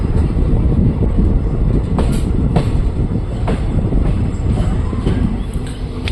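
Passing train on a South Western Railway line beside a newly installed track, loud and close with a continuous rumble and repeated clattering wheel beats, no talk.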